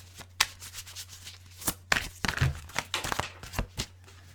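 Tarot cards are shuffled by hand in quiet, uneven bursts of papery riffling and slapping, with a few louder flicks as cards slip loose from the deck.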